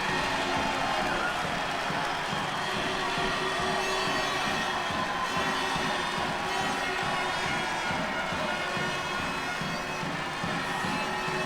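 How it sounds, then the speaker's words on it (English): A dense, loud crowd roars and cheers without pause at a judo Grand-Prix in Budapest, a steady wall of shouting and applause filling the arena. "Well, the crowd erupt."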